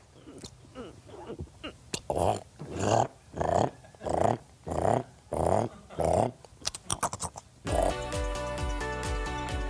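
A person imitates a koala's mating call with a run of deep, rhythmic, snoring grunts, followed by a burst of music.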